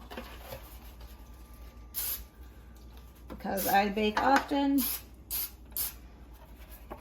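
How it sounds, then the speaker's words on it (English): Short hissing bursts of aerosol cooking spray over a sink, several quick sprays in a row, heard close up amid someone talking. "I'm actually spraying over my sink because I don't want this all over"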